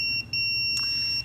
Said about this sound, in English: There's a real page.